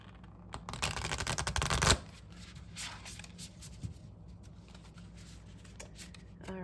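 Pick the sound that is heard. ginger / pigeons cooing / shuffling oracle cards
shuffling oracle cards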